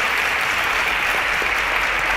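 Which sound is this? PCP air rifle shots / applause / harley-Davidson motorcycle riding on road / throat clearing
applause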